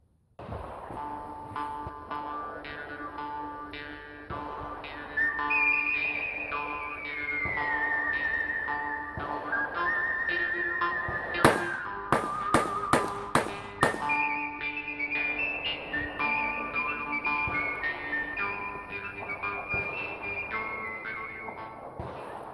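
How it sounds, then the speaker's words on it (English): A percussion revolver is fan fired in a quick burst of about six sharp shots, loud against a steady backdrop of tonal music that runs throughout. "I will try fan firing this revolver, which I've never done before, just for kicks."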